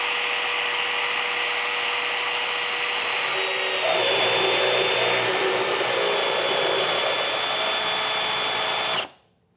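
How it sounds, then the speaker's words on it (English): A power drill whines loudly and continuously, its pitch shifting slightly midway, then cuts off abruptly near the end. "Drill."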